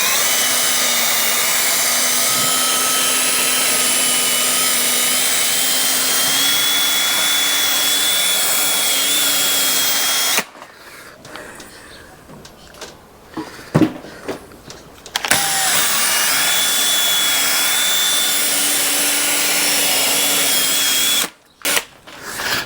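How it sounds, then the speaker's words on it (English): A drill fitted with a small cotton buffing pad polishes the fuel tank of a Yamaha FZ6 motorcycle, whining steadily and loud for about ten seconds, then pausing amid light handling noises before running again with a sustained whir. "So I'll use my wee buff in the drill."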